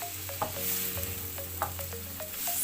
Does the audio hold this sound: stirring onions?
yes